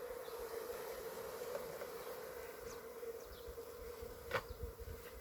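Honeybees at an apiary hive hum in a steady, dense drone close by, with occasional single bees zipping past and no talk over the buzz.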